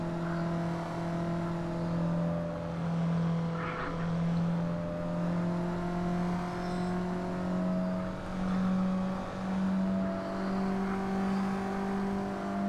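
A racing car's engine held flat out on the Goodwood track, a steady droning whine that rises and falls slightly in pitch as the car presses on, heard from inside the car.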